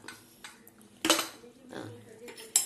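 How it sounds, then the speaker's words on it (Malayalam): A kitchen pressure cooker being opened after cooking chickpea curry: a sharp metallic clack of the lid and weight, then lighter clinks and rattles of metal, close up with faint background murmur. "അപ്പം നമ്മുടെ കുക്കറൊന്ന് തുറന്ന് നോക്കാം."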